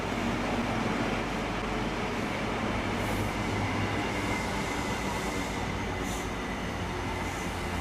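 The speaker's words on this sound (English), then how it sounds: "as our train slows to set down passengers" An HST train with Mark III coaches slows on the approach to Derby, giving a steady loud rumble of wheels and running gear throughout with faint higher squeals, no voices.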